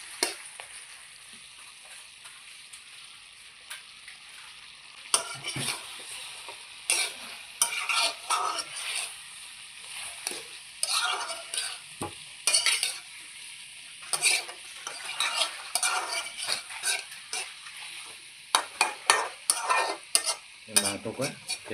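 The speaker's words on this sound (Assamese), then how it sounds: "এতিয়া ইয়াত পিঁয়াজখিনি দি মাংসৰ পৰা তেল ওলোৱালৈকে অলপ ভাজি ল'ম।" Onions frying with pork in a pot, a steady sizzle broken by repeated bursts of scraping and stirring, close and fairly loud, with no one speaking.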